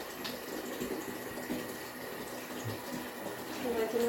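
Water pouring into an animal's drinking container in a barn stall, a steady splashing fill that rises slightly toward the end, with a person talking over it.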